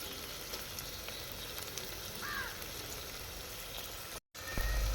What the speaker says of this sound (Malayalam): ചിക്കനും കൂടെ ചേർത്തിട്ട് നന്നായിട്ട് വഴറ്റണം